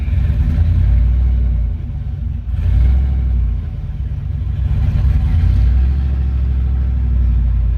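A 1969 Chevy Nova with a turbocharged LS engine revving hard, a loud, deep, sustained rumble that surges and dips several times as the throttle rises and falls, heard close with no talking.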